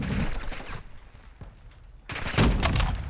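Gunfire in the shooter game Modern Warfare 2: a burst of rapid shots, a lull with scattered single cracks, then a loud, close barrage of overlapping automatic fire.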